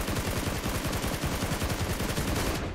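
Rapid gunfire rattles nonstop in a video game, a dense burst of automatic shots pounding close and loud for nearly three seconds before cutting off.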